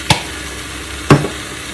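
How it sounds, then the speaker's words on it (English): Bacon fries in a pan with a faint, steady background sizzle, punctuated by two sharp clicks or taps about a second apart, close and without talk. "while I'm cooking my bacon"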